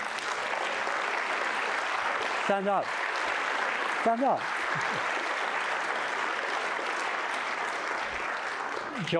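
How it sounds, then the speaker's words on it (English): An audience applauds the Cherry family at the Groundswell farming event, a steady, dense wash of clapping throughout, with a voice briefly calling out over it twice. "So I'd actually like you all to clap the Cherry family."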